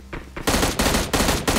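Rapid bursts of automatic gunfire in the battle royale game BGMI, three or four loud, close volleys in quick succession with brief gaps between them.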